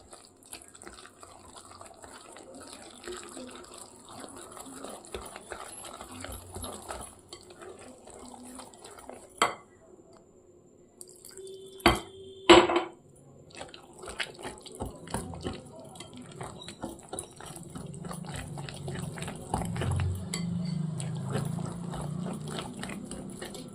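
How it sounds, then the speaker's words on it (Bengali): Aloo paratha batter is stirred in a bowl as small amounts of water are poured in, with faint scraping, clinks of utensil against dish and a soft watery swirl late on. "দেখুন আমি কিন্তু অল্প অল্প জল দিচ্ছি আর সমানে এটাকে গোলাতে থাকছি"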